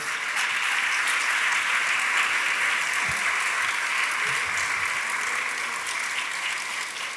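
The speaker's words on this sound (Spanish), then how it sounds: "le pido un aplauso a ustedes para el viceministro" Congress audience applauds the vice minister at a legislative health reform event, a full, continuous round of clapping lasting about seven seconds with a faint murmur underneath.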